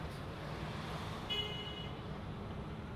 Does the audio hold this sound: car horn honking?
yes